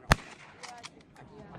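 A single sharp shotgun blast during a duck hunt rings out near the start, followed by quieter thumps and faint voices talking in the background.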